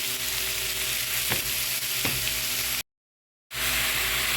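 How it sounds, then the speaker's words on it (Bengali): Onion fries in a pan with potato, carrot and tomato for a bhaji, giving a loud, dense, continuous sizzle with a few soft stirring scrapes. The sound cuts out briefly to silence, then resumes. "এখন পেঁয়াজের সাথে ভালো করে ভেজে নিই"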